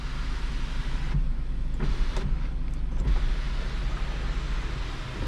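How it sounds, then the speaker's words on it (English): Powered sunroof of a 2019 Mazda CX-3 GS sliding open, a low steady motor hum inside the cabin with a few faint clicks, no talking. "you have your fully powered sunroof, which opens up just like that"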